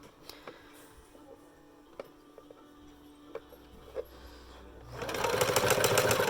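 A sewing machine back-stitches a homemade fabric mask: scattered clicks and short needle bursts give way to a loud, steady run of rapid stitching in the last second or so.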